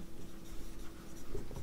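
Faint, close scratching of handwriting on a surface during a math lesson, in short irregular strokes against a quiet room.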